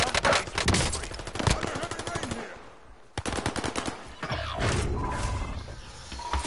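Rapid automatic gunfire in a PS4 video game rattles out in loud, dense bursts, with a brief gap midway before the shooting resumes.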